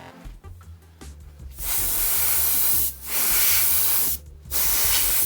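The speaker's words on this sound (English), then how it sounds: "so we're going to airbrush a few streaks coming from these corners downwards in this direction." Short bursts of airbrush hiss spraying paint streaks onto a model tile, three sustained sprays separated by brief pauses, close and fairly loud with a soft mechanical hum underneath.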